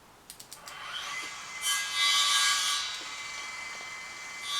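Distant construction noise from a house being built down the street: a few quick knocks, then a rasping, sawing whine swells and fades in the background.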